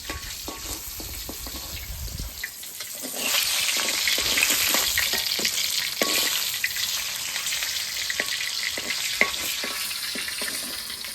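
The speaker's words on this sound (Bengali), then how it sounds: "মাছ ভাজি করছি, তার সাথে তেল উঠছে" Fish fries in hot oil in a wok, giving a continuous, hissing sizzle that swells louder partway through and stays close and steady, with occasional clatters of stirring.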